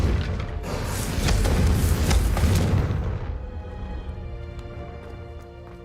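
A Confringo blasting curse explodes in Hogwarts Legacy with a loud, heavy boom that holds for a few seconds and then fades into a lower rumbling tail.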